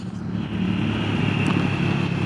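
A 2025 Triumph Scrambler 400X engine running steadily while riding in traffic, a continuous loud low drone with a faint higher whine, heard up close without pauses.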